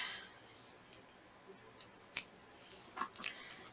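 Scissors make a few quiet, crisp snips through turquoise washi tape, with soft handling noise between the cuts and one sharper snip near the middle.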